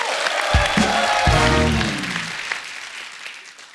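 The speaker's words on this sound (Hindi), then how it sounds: "उसके लिए जोरदार तालियां" On the Kapil Sharma Show, the studio audience applauds with a brief swell of voices at the start, then the clapping fades gradually.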